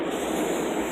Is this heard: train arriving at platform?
yes